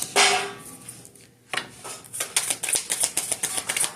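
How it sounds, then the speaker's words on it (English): A puppy's ball clatters and bounces on a vinyl floor in a rapid run of sharp knocks, with a brief scuffle, close by and fairly loud. "Sorry for the noise. My puppy is playing with his dog ball."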